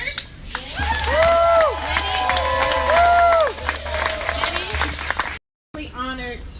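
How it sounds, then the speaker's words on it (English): A crowd claps and cheers loudly for several seconds, with whistles and shouts mixed in, then a brief gap before more applause. "we would love to give you a round of applause and an award"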